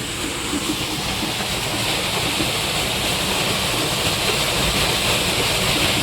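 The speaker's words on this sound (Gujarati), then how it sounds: "આવી રીતે પાણી જાય" Rainwater rushes steadily into a village well during heavy rain, a dense, unbroken roar of flowing water heard up close with no voices.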